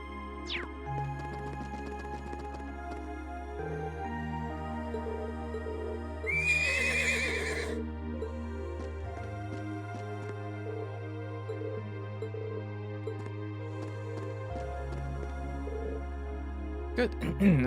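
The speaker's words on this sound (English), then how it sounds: "It's good to finally be able to return the horses to the stable." Horses neigh in the Trails of Cold Steel II video game, with one loud, prominent whinny in the middle over a steady game music backdrop and some hoof clip-clop.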